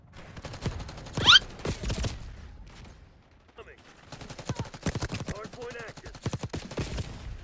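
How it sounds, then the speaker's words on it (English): Bursts of rapid gunfire fired through a cement wall in Black Ops 6, clustered volleys of sharp cracks separated by short pauses, loud and close, with someone speaking between and over the shots. "how many fucking bullets does it take to kill a guy through the cement wall?"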